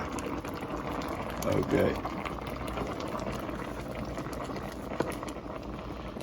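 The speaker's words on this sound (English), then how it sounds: "it's boiling pretty good, so I'm gonna cut it down a little bit lower" Pears boiling with lemon in a pot of water, a soft steady bubbling with a brief louder gurgle, while a voice speaks briefly over it.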